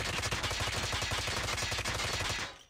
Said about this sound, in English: Or what you can do is you can fire, reset the recoil, fire, reset the recoil, fire